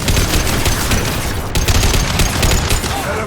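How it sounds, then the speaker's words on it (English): A concussive shot fired during a Mass Effect 2 firefight, loud and close, with sharp impacts over a dense wash of rapid gunfire and a brief cut in the clatter partway through. "Firing concussive shot!"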